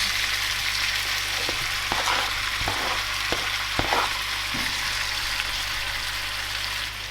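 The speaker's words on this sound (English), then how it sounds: "So now I'll just add in my tomatoes." Tomatoes hit a hot pan for a heartburn-free bolognese sauce, giving a steady, close frying sizzle throughout, with a few sharp crackles and spoon stirs over the constant hiss.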